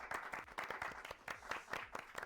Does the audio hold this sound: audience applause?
yes